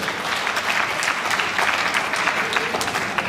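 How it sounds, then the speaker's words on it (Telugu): A crowd claps loudly and continuously at a religious discourse, a dense, even burst of applause lasting a few seconds. "వ్రతం చేసుకున్న వాళ్ళు కొన్ని గట్టిగా చప్పట్లు కొట్టండి"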